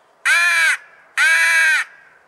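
Two long, raspy caws from a Faulk's crow call closely imitate a crow, loud and near, separated by a short pause with nothing else audible.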